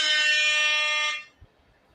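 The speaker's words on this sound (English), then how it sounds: "Air horn, go ahead. Give it to me." A single loud, blaring air horn blast holds steady for about a second, then cuts off abruptly into near silence.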